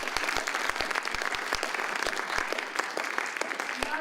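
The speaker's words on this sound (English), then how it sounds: "I'm wondering if we can give the rooster a fond farewell applause" An audience at a civic poetry event applauds together, steady overlapping claps at moderate distance, with individual sharp hand claps audible within the wash.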